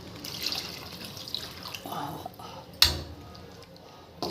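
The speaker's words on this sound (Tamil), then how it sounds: "ஒரு கிலோ குடலுக்கு 2 சொம்பு தண்ணி ஊற்றி நல்லா வேகணும். தண்ணி ஊற்றிருக்கிறோம்." Water poured from a pot into a cooking vessel of intestine curry, a splashing, gurgling pour with bursts of running water and a sharp clank, heard close up.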